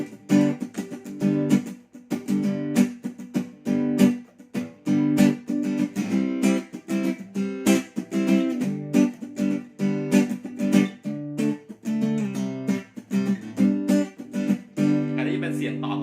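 An amplified Kama K4117 41-inch acoustic-electric guitar strums chords in a steady, busy rhythm, close and bright, with no voices over it.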